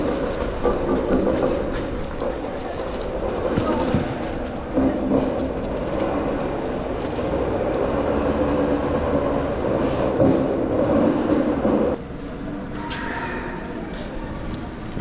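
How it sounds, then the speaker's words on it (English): A loud motor scooter passes through an old railway tunnel, its engine a sustained echoing rumble that fills the enclosed space, with some voices in the background. "that motor scooter should not have been in here, and it was very stinky and very, very loud"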